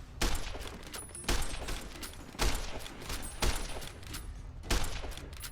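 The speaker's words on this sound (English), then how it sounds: "Plenty of gunfire going off." Gunfire in the video game Fallout New Vegas arrives as five sharp, evenly spaced shots about a second apart, fairly faint and distant, with no talking.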